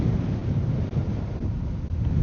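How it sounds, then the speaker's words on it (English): Wind buffets an outdoor microphone during a ride, a loud continuous low rumble with gusty swells and two brief dips, no talking. "that wind is definitely picking up"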